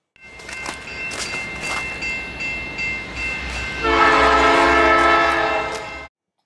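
A train rumbles steadily past near the river at historic Yale, then its horn blares loud and sustained through the final two seconds.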